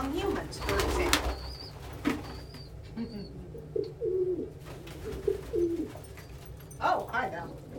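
Pigeons coo in soft, low, repeated phrases, nearby and scattered across the stretch, with a person talking in between and a few sharp knocks near the start.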